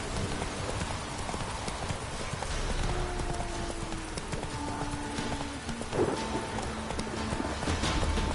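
Hooves clip-clop steadily on a trail as a horse is ridden, a continuous rhythmic patter over a busy background with a few tonal sounds layered on top.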